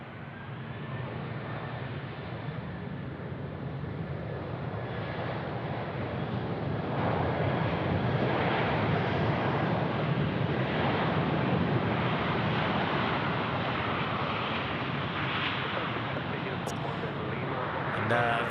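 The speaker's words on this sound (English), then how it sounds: "Qantas 26 here just coming in. This is definitely an A330 coming across your screens of the 300 variant." A Qantas Airbus A330-300 airliner arriving at Sydney Airport, a steady broadband jet roar that swells and holds loud for the whole stretch, with wind buffeting over it.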